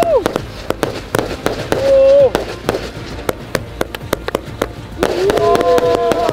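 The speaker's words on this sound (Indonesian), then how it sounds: "Kembang api paling keren yang pernah aku nyalakan." Rapid sharp bangs of New Year fireworks burst in quick succession, close and loud, with whistling tones rising between some of the pops.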